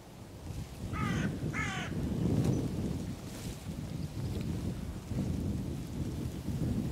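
A hooded crow in a field gives two quick harsh caws, moderately near, over a constant low rumbling wind-like background; no one speaks.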